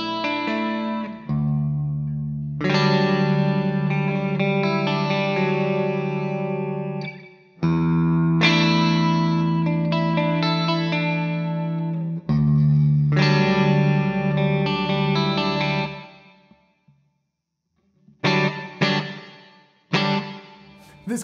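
A Strandberg Boden Standard NX 7-string electric guitar played through a distorted hair metal patch, with loud sustained chords in phrases separated by short pauses, then a few quick choppy stabs near the end.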